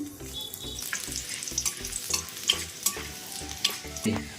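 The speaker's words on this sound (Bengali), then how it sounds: "এর মধ্যে আমি দিয়ে দেব রসুন কুচি" Chopped garlic frying in lowered-heat oil for a home-style chili chicken, a steady close sizzle broken by repeated scraping stirs of a spatula against the pan.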